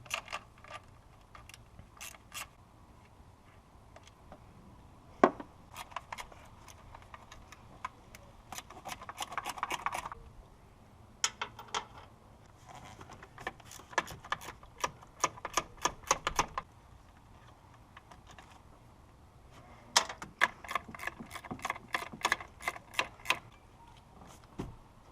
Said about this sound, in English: Now we'll just remove these studs, and these are 10mm, so a ratcheting